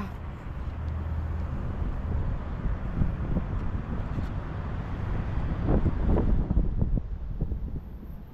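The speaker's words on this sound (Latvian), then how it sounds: "Es ceru, ka var labi dzirdēt, jo ir diezgan liels vējš." Strong wind in Jelgava, Latvia, buffets the microphone in a steady low roar, swelling louder around the middle with gusty rumbles, no voices.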